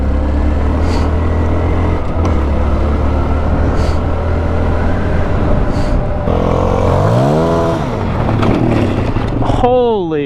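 A 2019 Honda CRF 450L motorcycle drones loudly at speed with wind rush throughout, then its engine revs rise and fall sharply near the end as the rider yanks for wheelies; a voice talks over it.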